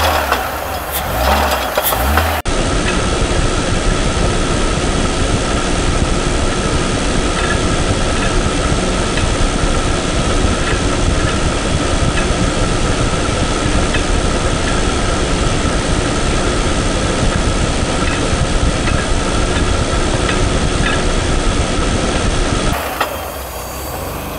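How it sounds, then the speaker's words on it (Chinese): Mercedes-Benz W126 300SEL engine with a dislodged timing disc knocking inside as the throttle is lightly opened. It gives a loud, steady, rough roar with a fast clattering knock running through it, close up and without talk. "会听到那个有那个被正时盘脱离撞击的声音"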